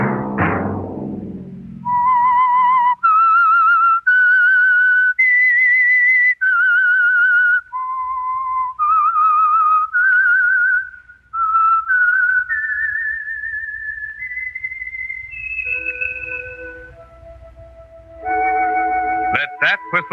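A lone whistled theme melody from The Whistler, a 1948 old-time radio mystery drama, a clear sustained tune of held and gliding notes rising and falling over about twenty seconds, loud and close, with a brief noisy burst at the start and a few low instrumental tones near the end.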